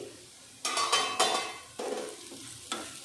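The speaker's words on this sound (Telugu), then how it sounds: "ఇంకా ఫ్రై అవ్వాలి" Tindora curry sizzling in oil in a pan, broken by a few loud bursts of stirring and the clatter of a utensil and lid, then steady frying.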